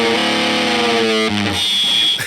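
A Squier Toronado electric guitar played through a fuzz and gain pedal circuit rings out a loud, distorted sustained chord that cuts off abruptly, leaving a brief glitchy, squealing tail and no talking.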